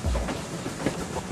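A steam train runs along rails with a steady rolling rumble and faint clickety-clack, fairly close and continuous over a brief moment.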